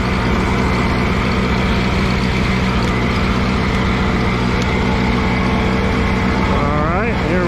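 An Allis Chalmers G tractor engine runs steadily in first gear, a loud, close, continuous mechanical drone with a constant throbbing beat that rises slightly in pitch near the end.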